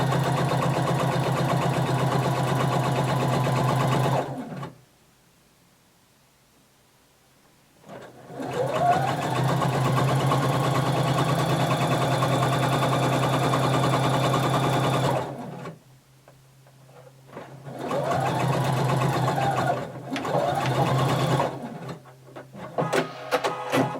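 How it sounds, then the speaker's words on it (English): Sewing machine stitching the shoulder seam of a maxi dress at a 5/8-inch seam allowance, loud close whirring runs broken by pauses, with short back-stitch bursts near the end. "So we're going to sew using a 5/8 of an inch seam allowance. You're going to back stitch at the beginning and at the end."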